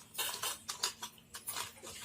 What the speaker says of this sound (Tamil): இறாவோட அந்த மசாலா எல்லாத்தையும் நல்லா பைண்ட் ஆகிற மாதிரி கலந்து விட்டுங்க